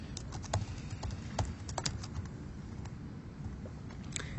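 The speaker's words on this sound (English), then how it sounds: "I'm going to type Independence Day." Keys clatter at a steady pace on a computer keyboard while an entry is typed into project scheduling software, the clicks set over a constant low hum and background noise.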